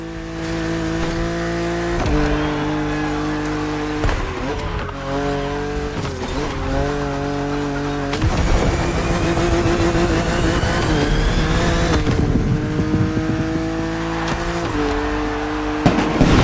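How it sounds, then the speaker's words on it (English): Car engine from The Crew Motorfest as it cruises an open road, a steady droning motor with rising and falling pitch through gear changes, loud and continuous over a music bed, with occasional tire noise. "it's the perfect car for open roads"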